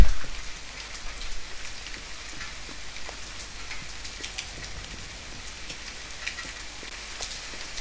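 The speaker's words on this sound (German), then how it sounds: "So, da regens." Rain pours down steadily in the survival video game The Forest, a continuous even patter of drops on surfaces, moderately loud with scattered sharper drips and no talking.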